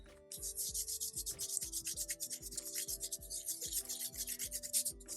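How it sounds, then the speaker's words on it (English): A cotton pad soaked in acetone and held in a grabber is rubbed over nail polish, making rapid, close, rhythmic scratchy rubbing strokes over a faint background hum. "I have some acetone on this cotton pad, and I use this cotton grabber so that my mani doesn't get dirty. I'm going to wipe it off."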